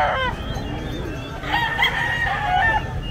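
A gamefowl rooster crows loudly and close at a busy Philippine chicken market selling fighting cocks, its drawn-out call rising over clucking and faint crowd noise.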